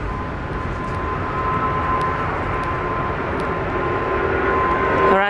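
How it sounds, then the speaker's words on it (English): An Emirates A380 airliner departs Brisbane International Airport, its engines making a broad, steady jet roar with a faint whine, heard at a distance and rising slightly toward the end. "bye-bye to the big boy, Emirates A380."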